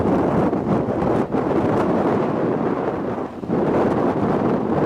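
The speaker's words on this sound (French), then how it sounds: "il y a beaucoup de vent, je ne sais pas si on va m'entendre" Strong gusty wind buffets the microphone in a loud, continuous roar on a volcano hiking trail in Réunion, with brief dips and surges, no voices heard.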